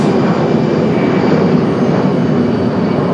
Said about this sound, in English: JetBlue lining up next.